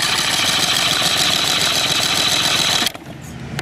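An outboard boat motor on a bass boat cranks steadily for a compression test, a loud continuous mechanical churning that cuts off abruptly near the end, with no talking.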